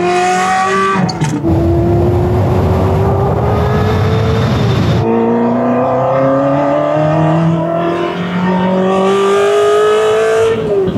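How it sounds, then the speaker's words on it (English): A Ferrari 360 out on a race track on a hot day, its engine loud and close as it revs up through the gears with rising pitch, drops briefly on a shift, then climbs again. "Getting out on track in the 360."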